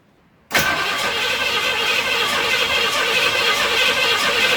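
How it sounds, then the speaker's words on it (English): A car engine is turned over by a FANTTIK portable jump starter but has no fuel. The starter cranks in with a sudden loud onset after half a second of quiet, then whirs steadily and close without catching. No voices. "She's cranking, but we don't got fuel yet."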